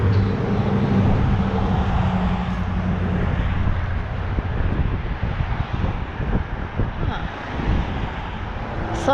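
Outdoor breeze buffets a microphone in a loud, rumbling low roar that gusts and eases, with brief choppy bursts toward the end.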